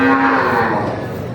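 A cow lets out a loud, close moo at a farm animal area in Del Carmen, Mactan, with a steady, drawn-out low bellow that slowly fades. No voices are heard.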